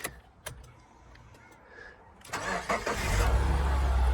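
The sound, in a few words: Subaru Forester engine starting with new key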